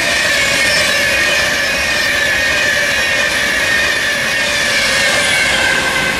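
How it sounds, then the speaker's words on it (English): A Virgin Pendolino passes through Stafford on the West Coast Main Line, heading south, its steady loud rumble and rail noise filling the whole stretch with wheel squeal and a faint clickety-clack, no voices. "There was a Virgin Pendolino passing, heading down south."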